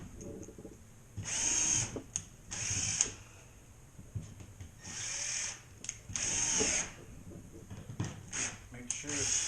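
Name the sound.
power drill driving screws into a drywall ceiling patch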